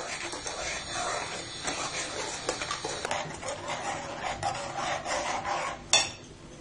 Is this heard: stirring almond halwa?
yes